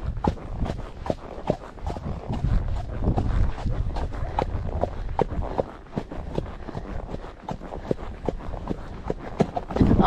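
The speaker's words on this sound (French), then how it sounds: "On trotte un peu, ma Lily?" A horse trots along a muddy route with a steady, fast clip-clop of hooves that stays close and continuous throughout, over light wind and ambient rumble.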